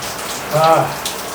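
Shower water sprays close and fairly loud to imitate rain, a steady hiss that swells briefly around the middle of the short burst.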